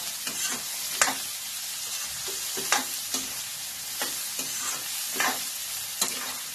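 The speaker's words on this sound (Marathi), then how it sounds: "आता हे पूर्ण चांगलं मिश्रण करून घ्यायचं।" Cauliflower bhaji frying in a pan is stirred, with a steady sizzle under repeated scraping strokes of a spoon roughly every second, close and fairly loud, with no talking.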